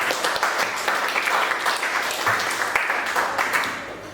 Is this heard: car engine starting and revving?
no